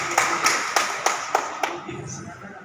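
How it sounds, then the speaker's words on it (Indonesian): A handful of separate hand claps, about six sharp smacks in an uneven rhythm, sound at a Betawi community halal bihalal gathering, honoring a guest teacher, fading into background murmur. "Tepuk tangan."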